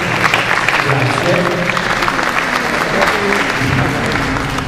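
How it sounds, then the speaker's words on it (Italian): Audience applause fills a hall at a tribute evening honoring Corradino D'Ascanio, steady dense clapping throughout, loud and close with faint crowd murmur underneath. "Per cui faccio un applauso."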